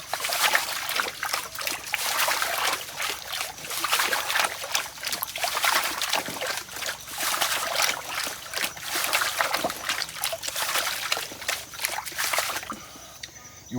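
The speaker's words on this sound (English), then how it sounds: "You want to drain the water off of it, because water is like a lubricant." Water trickling and splashing as it drains from a gold pan at a river, a continuous close sloshing and dribbling with repeated splashy bursts, fairly loud, and no voices.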